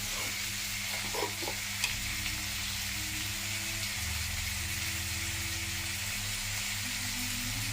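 Potato and chana dal kurma sautéing in a pan, a quiet steady sizzle with a few soft stirring knocks early on, under a low continuous humming drone, no voices.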